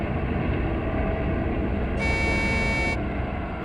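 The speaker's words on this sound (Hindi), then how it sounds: "ट्रक की आवाज? ट्रक जंगल में?" A truck drives through jungle, its engine a loud, steady, close rumble throughout, with a one-second horn blast sounding over it partway through; no voices.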